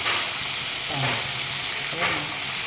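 Loud, continuous frying sizzle as salt, turmeric, chili powder and cumin powder cook in a pan, with occasional stirring scrapes and faint low background sounds underneath.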